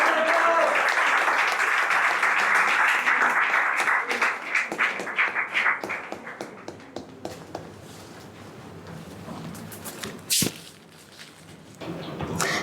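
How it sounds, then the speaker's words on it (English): An audience at a professional panel discussion applauds a panelist, dense clapping at first that thins into scattered individual claps and fades, followed by a few knocks and a sharp thump. "I request everyone to clap for our next panelist, Toastmaster Sai Chandra."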